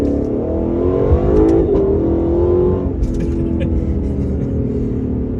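A Lexus LC500 engine revs hard under acceleration, swelling to a loud snarl before easing into a steady cruising drone, heard from inside the car.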